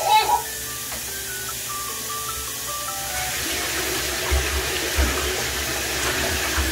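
Water runs from a tap into a bathtub, a steady hiss and splash that swells after a few seconds and continues throughout, with children's voices and a short tune at the start.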